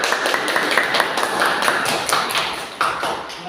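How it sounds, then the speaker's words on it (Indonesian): Classroom applause for a student group, many hands clapping together in a dense, steady patter that stays fairly close and even for the whole stretch with no pauses. "kita beri aplaus untuk kelompok 2"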